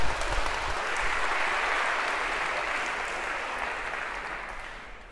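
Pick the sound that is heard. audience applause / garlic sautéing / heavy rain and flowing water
audience applause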